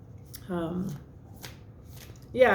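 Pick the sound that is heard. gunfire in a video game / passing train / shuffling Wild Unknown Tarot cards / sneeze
shuffling Wild Unknown Tarot cards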